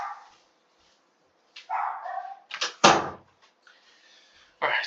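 Close-by indoor dog gives a few sharp barks and yips in irregular bursts, with a door thump in the middle and quiet gaps between sounds.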